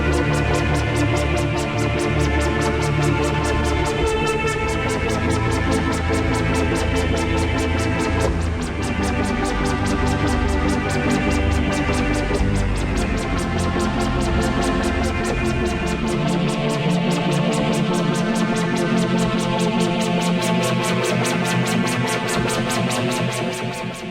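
Vital synthesizer pad preset called Landing on Mars, three layers through bandpass and low-pass filters, a loud, dense, continuous sustained texture whose low end drops away about two-thirds through.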